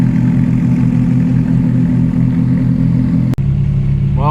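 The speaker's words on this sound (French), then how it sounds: "Ça commence à faire chauffer les moteurs." Loud engines rumble and idle close by at an Italian car meeting with a Ferrari 458 Spider and 430 Scuderia present, a steady deep drone broken by one sharp click before a rising rev at the end.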